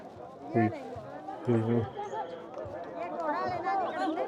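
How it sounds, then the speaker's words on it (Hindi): A crowd of pilgrims presses along the Amarnath Yatra trail from Baltal toward the Holy Cave, where pony and mule handlers mix with walkers, making a continuous close babble of many voices with brief louder calls. "यहाँ भीड़ देखिए कितनी भीड़ है"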